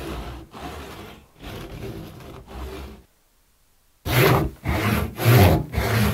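A dull handsaw cuts through a wooden log in steady back-and-forth strokes, rasping and scraping up close, pausing for about a second before resuming with louder, harsher strokes; no one speaks.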